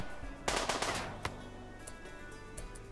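Gunfire in a Rimworld battle: sharp bursts of rapid machine-gun shots crackle near the start, followed by scattered single reports and short volleys, moderately loud with no talk.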